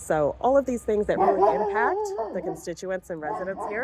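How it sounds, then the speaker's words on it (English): A pet dog barks, yips and whines in the background of an indoor call, the yelps and a drawn-out whimper mixed under a person speaking steadily throughout. "sorry, that's my dog"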